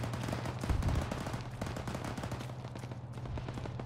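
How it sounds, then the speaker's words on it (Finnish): Rapid automatic gunfire in the military shooter Arma 3, with dense bursts of shots and a heavier low thump early on, fairly faint and continuous throughout with no voices. "Ammu vaunua päin"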